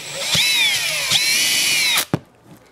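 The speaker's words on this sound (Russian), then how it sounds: "В данном случае у меня это шуруповерт" A cordless screwdriver spins a DE-TERO sanding sleeve in two whirring bursts that rise and fall in pitch, then stops with a couple of sharp clicks before near silence.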